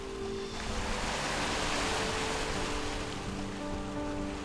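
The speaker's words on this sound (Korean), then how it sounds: "몽돌과 파도가 부딪혀내는 아름다운 하모니가" Continuous surf rolls over a round-pebble beach on Dolsan Island, Yeosu, Korea, in a broad, steady hiss with a faint rattle, loud and close, with no voices.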